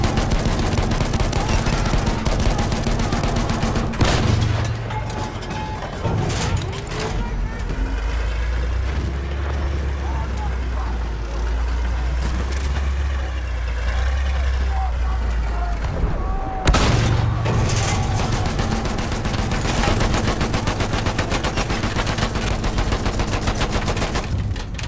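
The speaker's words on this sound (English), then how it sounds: "Enemy machine gun! Machine gun!" Dense, continuous battlefield gunfire from a Battlefield 1 match, with bursts of machine-gun fire and heavier booms layered into a constant roar, loud throughout with a brief lull in the middle.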